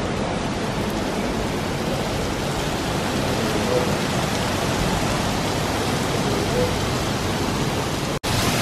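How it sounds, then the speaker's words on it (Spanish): Heavy rain pours steadily and loudly throughout, a dense unbroken hiss with no letup, recorded outdoors in Goa, India. "comenzó a llover"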